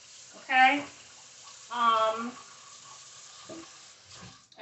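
Tap water runs steadily while vegetables are washed for shrimp and veggie foil packets, a soft continuous hiss with a voice talking over it in short bursts.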